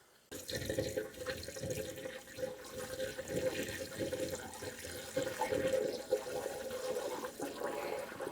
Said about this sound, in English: Okay, cap is off, so now we're going to pour in the water.